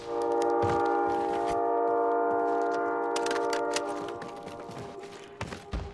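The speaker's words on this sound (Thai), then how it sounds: "เสียงรถไฟ อ๋อ รถไฟ" A train horn sounds a sustained chord, then fades as the train rumbles past in a zombie-mode video game at night, with a few sharp clicks toward the end.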